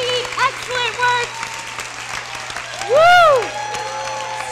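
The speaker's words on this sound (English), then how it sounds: "Give Clyde a round of applause." An audience at a women's equity anniversary celebration gives a round of applause, clapping under voices and a loud excited whoop partway through.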